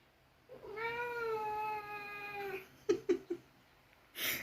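A cat gives one long, drawn-out meow with a falling pitch, close and clear in a quiet room at night, followed by a few short chirping mews and a brief rustle.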